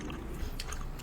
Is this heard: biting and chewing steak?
yes